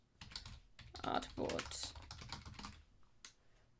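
Rapid keystrokes on a computer keyboard at a desk during a live digital drawing session, a fairly dense run of close, soft clicks with a brief spoken word in the middle.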